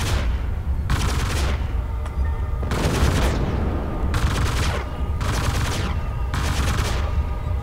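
Six loud PPC shots from MechWarrior Living Legends go off at an even rhythm, each a harsh crackling burst that cuts off sharply, with no talk over them.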